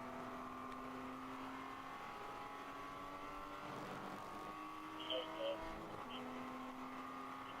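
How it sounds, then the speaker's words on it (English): A race car engine runs steady and loud at high revs, held against the rev limiter, during a ChampCar endurance race at Watkins Glen, with a brief blip near the end. "Just into the rev limiter there."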